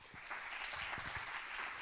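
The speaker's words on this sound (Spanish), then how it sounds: "Así que démosle un fuerte aplauso y le doy la palabra." Audience applause at a talk on self-harm and suicide, a dense even wash of many hands clapping that holds steady at moderate level for under two seconds, with no voices over it.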